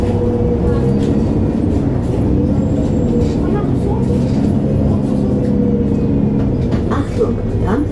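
Steady low rumble from inside a MAN A23 Lion's City G NG323 articulated city bus of the ÜSTRA Hannover fleet as it drives along, loud and continuous, with faint voices and rattles in the background.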